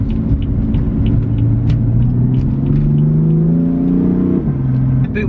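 A stage 2 tuned BMW M3 performance sedan, making about 500 horsepower, pulls hard with a loud, steady engine rumble whose pitch climbs through the gears, with a brief dip near the end as it shifts, and no talking.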